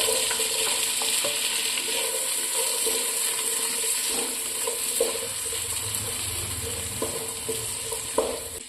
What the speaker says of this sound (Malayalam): അടുത്തതായി നമുക്ക് കട്ട് ചെയ്ത് വെച്ചിരിക്കുന്ന ചെറിയ ഉള്ളി അതിലോട്ട് ആഡ് ചെയ്യാം.